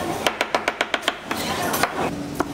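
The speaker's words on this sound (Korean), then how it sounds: "멍게의 입부분을 자르고 몸통을 반으로 갈라 속살을 꺼내 칼질 몇 번이면 손질 끝!" A knife chops rapidly and rhythmically on a board while a sea squirt is cut open and cleaned, a quick run of sharp taps followed by a few scattered strikes amid kitchen clatter.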